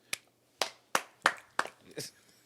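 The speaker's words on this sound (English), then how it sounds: "Give a round of applause for Beyonce, man." A few podcast hosts clap close to the microphone, making about six separate sharp claps in a loose, uneven rhythm. The claps are fairly quiet, with short silences between them.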